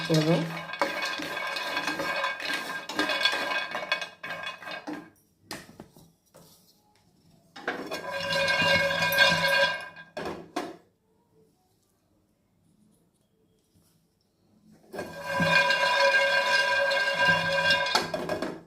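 Laddu ingredients dry roasting in a pan, heard as three long stretches of rattling, scraping stirring with metallic clinks, separated by near-silent pauses, close and fairly loud.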